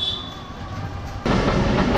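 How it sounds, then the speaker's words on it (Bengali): A train passes a railway tunnel that is about 110 years old at Ishwardi, Pabna, with a faint whine that gives way to a sudden loud rumble of rolling cars close by. "ওই যে দেখুন ট্রেন যাচ্ছে"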